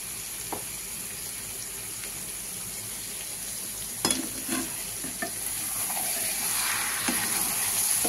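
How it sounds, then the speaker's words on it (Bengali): Chickpeas sauté in a hot pan with chicken and oil, giving a continuous soft sizzle broken by a few sharp scrapes and knocks of a spoon stirring, close and clear with no talking. "এবার ছোলাটা দিয়ে কষবো।"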